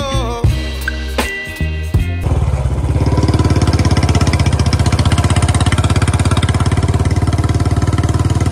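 A motorcycle engine, reportedly troublesome, with a few loud knocks and clatters at first, then starts and runs steadily close by with a loud, even idle throbbing through the rest.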